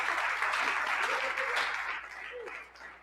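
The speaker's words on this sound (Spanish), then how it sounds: "den un aplauso fuerte al Señor" A congregation at a church camp gives loud applause to the Lord, dense clapping that swells and then gradually fades, with faint voices mixed in underneath.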